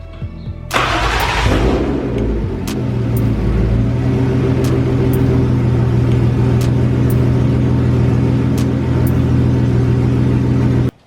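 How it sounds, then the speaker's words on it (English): A 1994 BMW 325is engine cranks and fires after a valve cover gasket replacement, then settles into a steady, loud, close idle with a constant low rumble until it is shut off at the end. "Start it up, look for any leaks, and then that'll be the end of it."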